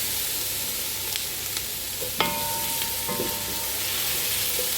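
Food frying in sesame oil in a pan, a steady loud sizzle with a few clinks and scrapes as it is stirred, close up.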